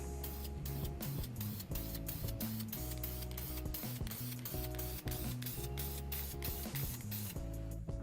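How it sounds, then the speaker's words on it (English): Gray chalky-finish spray paint applied to lamp shades gives repeated short hissing bursts at close range, layered over a steady tonal background. "I then used some spray chalky finish paint to give the shades a couple of coats of gray."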